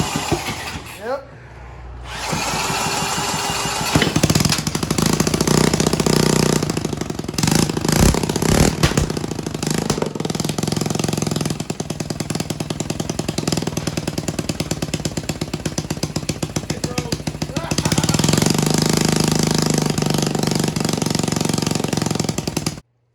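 A Yamaha 225DX Tri-Moto three-wheeler engine with heavy blow-by runs loud and rough, a harsh steady rattling drone that starts after a brief pause and carries on, with people talking over it.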